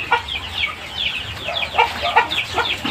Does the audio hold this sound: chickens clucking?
yes